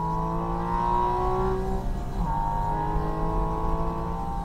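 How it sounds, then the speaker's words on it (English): A Porsche engine revs high through the power band, with steady intake and exhaust tones climbing in pitch, a brief dip as it shifts, then pulling on strongly, loud and close. "The suction translates to intake noise, translates to exhaust noise as you get higher up in the power band."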